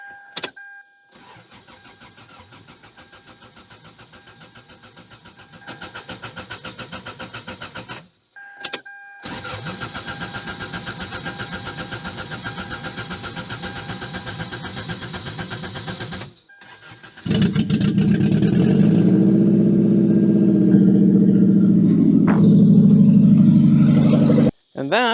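Car engine cranking in short bursts, then catching and running steadily loud after an engine swap, with the starter whir giving way to a rough, sustained idle near the end.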